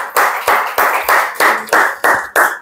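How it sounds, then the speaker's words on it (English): A small class audience claps after a spoken English presentation, about eight distinct, loud, evenly spaced claps in a slow steady rhythm, close by and with no talking. "So clapping for everybody, please, who comes here."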